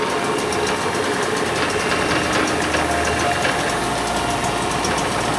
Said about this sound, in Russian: На холостых оборотах. Мотор только завели, а он уже ровно работает.